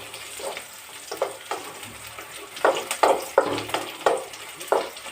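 A tempering with green chillies and curry leaves fries in a pan, loud bursts of spitting crackle arriving in irregular pulses over a softer background sizzle, with no voices.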